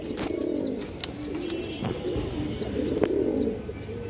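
Green-necked pigeons give repeated low, throaty coos close by, the calls overlapping in a steady murmur while faint high chirps come through now and then.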